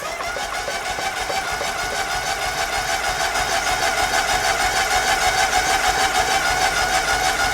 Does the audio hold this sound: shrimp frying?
no